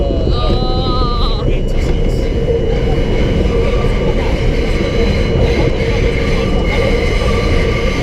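Interior rumble of an R42 subway car running on an A express train, a loud continuous roar of wheels and motors with high squealing tones early on and voices talking over it.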